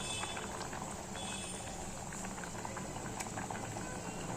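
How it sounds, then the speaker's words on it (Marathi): Mung bean curry (kalvan) simmers in a pot at a soft, steady bubbling boil, with small pops and gurgles, heard close but faint and with no voices. "आता हे पण मुगाचं कालवण मस्त झालेलं आहे आणि शिजत आलेले आहे."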